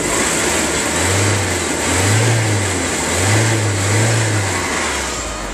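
A 1995 Porsche 968 engine running just after cranking, a steady close idle with a few gentle rises and falls in revs over a broad hiss, with no voices.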